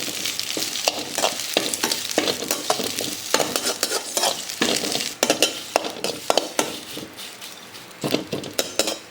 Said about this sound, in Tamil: கருவேப்பிலை நல்லா முறுன்னு வறுக்கணும்